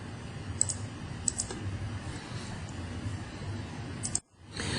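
A computer mouse clicks a few times, quietly and at irregular intervals, while a page orientation is changed in a desktop publishing program. The clicks sit over steady low room noise, which drops out abruptly near the end.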